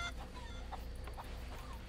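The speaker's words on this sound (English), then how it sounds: "Chickens." Chickens clucking in the pirate video game Sea of Thieves, a few soft clucks at a steady low level over a constant ambient game background, with no talk.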